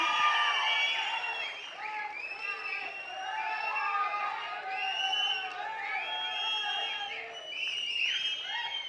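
Crowd at a public event in Kondapuram, Kadapa, marking the launch of a mega solar project, applauding and cheering steadily throughout, with whoops and raised voices over sustained clapping.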